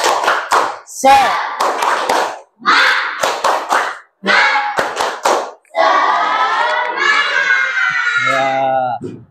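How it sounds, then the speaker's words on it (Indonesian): Children in a classroom perform a spirit clap: loud rhythmic bursts of hand clapping, then a stretch of children's voices chanting together in unison, close and energetic. "Coba tepuk semangat"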